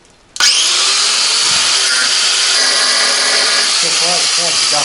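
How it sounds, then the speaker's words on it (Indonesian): An angle grinder starts up abruptly and cuts through a pipe, a loud, steady high-pitched whine that holds continuously, with a slight shift in tone as the disc bites into the metal. "Bisa menyalakan gerinda."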